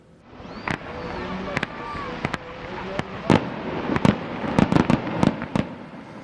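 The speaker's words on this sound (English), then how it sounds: "Fireworks filled the sky over the falls as part of the kickoff to Winter Wonderland" Fireworks burst over the falls at Falls Park during a Winter Wonderland holiday kickoff, a string of sharp pops and bangs that come closer together toward the end, over a steady rumble of crowd and ambience.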